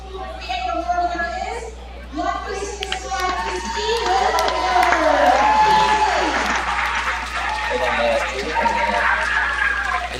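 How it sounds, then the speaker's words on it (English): A crowd at a VEX IQ Slapshot robotics event for elementary and middle school teams erupts in sustained applause and cheering, loud and steady, with announcer voices talking over the clapping. "the crowd goes wild from what it sounds like"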